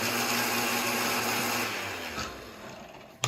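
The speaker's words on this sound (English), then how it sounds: "I was thinking that it might work really good using the immersion blender for that." An immersion blender whirs loudly and steadily through thick red and yellow curry paste in a home kitchen, its motor hum dropping and easing off partway through before a brief clunk at the end.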